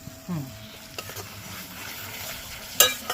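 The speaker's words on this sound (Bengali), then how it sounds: "দেখো মশলাটা পুরো কষানো হয়ে গেছে" Spice masala for a chela fish curry is stirred and sautéed in a pan, a steady close sizzle with a few scraping strokes and a sharp clink near the end.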